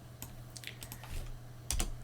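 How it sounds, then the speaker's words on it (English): Computer keyboard keys are tapped while typing a command into a Linux terminal on Ubuntu 22.04, giving a few faint, scattered clicks close by in a quiet room. "We can do that by typing this."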